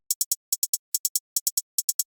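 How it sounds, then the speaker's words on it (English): Crisp hi-hat hits of a simple trap pattern repeat in groups of three with short gaps, a bouncy, simple pattern played alone. "Got this hi-hat. Playing a very simple pattern."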